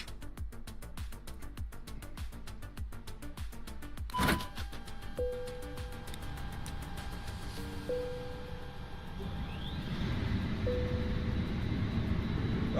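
Air France A320neo airliner powering up in Microsoft Flight Simulator, a rapid clicking rhythm fading into a rising electrical and fan hum, with a few short tonal beeps and a growing low whine toward the end.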